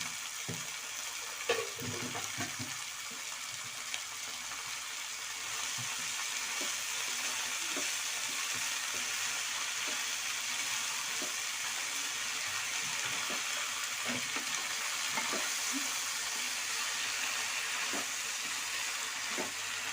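Chopped banana flower sizzles steadily in hot oil in a pan, a continuous close hiss of frying with scattered small pops and occasional faint clinks throughout.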